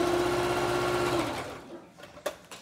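A sewing machine runs in a steady close whirr for over a second while stitching trim onto an outfit, then stops, followed by a few light clicks and handling sounds.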